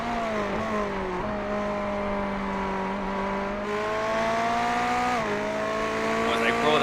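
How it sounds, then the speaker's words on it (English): A privateer Ferrari GT3 race car's engine roars steadily from onboard at Watkins Glen, pitch climbing through the gears with a few shifts, loud and continuous with no talk over it. "let's listen into the roar of the engine"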